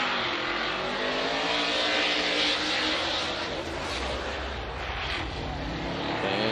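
A drift race car engine at a Formula Drift event in Montreal roars on track during a shakedown run, a loud sustained high-revving drone that holds steady and dips slightly near the end.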